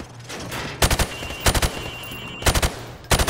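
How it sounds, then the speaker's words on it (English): Automatic rifle fired from the hip at targets on a training range in Modern Warfare Remastered, heard as four loud, close bursts of rapid shots separated by short pauses. "Now, shoot at the targets while firing from the hip."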